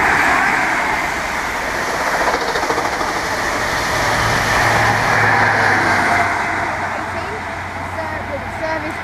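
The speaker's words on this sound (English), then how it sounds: "And so train now passing through West Ealing" A train rumbles steadily through West Ealing station on the Great Western Main Line, a loud, sustained roar with a low engine drone building midway, heard close and without a break.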